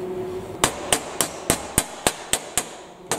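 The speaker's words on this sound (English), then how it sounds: "Hammer bead in, and that's the back of the engine." Sharp metallic hammer strikes seating a bead at the back of a dragster engine, about ten in an even, steady rhythm, close and loud, with a quick double hit at the end.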